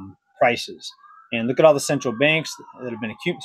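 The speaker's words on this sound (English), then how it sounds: "Sorry about the sirens in the background. I'll wait for them to go by." A wailing emergency siren passes faintly in the background, a thin steady tone running beneath a man's continuous speech in the foreground.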